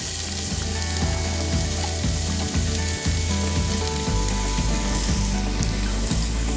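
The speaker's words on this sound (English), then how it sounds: "We're just going to fry those up until they start going translucent." Finely chopped onion fries in olive oil in a saucepan, giving a loud, steady sizzle broken by regular scraping strokes as it is stirred.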